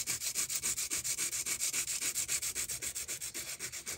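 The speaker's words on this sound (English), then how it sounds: "Now this is very, very fine sandpaper." Very fine sandpaper rubs lightly back and forth over a part from a 1976 Italian Gottlieb wedgehead pinball machine, an even run of about twenty soft, rhythmic scratchy strokes, close and alone.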